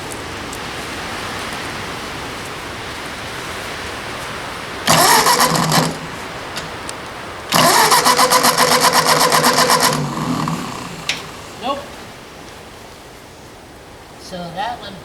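An old Ford 2N farm tractor engine cranks and briefly catches in two loud bursts, sputtering between them, then dies back to a quiet background with faint knocks.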